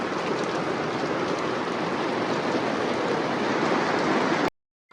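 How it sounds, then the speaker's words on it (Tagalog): Steady, dense rain pours down in Baguio City, a loud continuous hiss with no voices, cutting off abruptly just before the end. "Ayan na, inulan kami ha."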